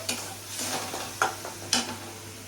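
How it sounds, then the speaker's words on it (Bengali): Masala and yogurt are stirred in a hot pan for potoler dorma. A spoon scrapes three distinct times over a soft, continuous sizzle, close and moderately loud, with no talking. "তাহলে আমি এখন দই দিচ্ছি, দিয়ে আবার সেই নাড়াচাড়া করছি মশলাটাকে"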